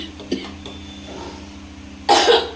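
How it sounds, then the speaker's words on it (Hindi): A woman coughs while packing thekua and pakoras for a Chhath offering in a home kitchen: a short cough early on, then a louder burst of coughing near the end over a steady hum. "बार बार उठ रहा खांसी पता नहीं क्यों।"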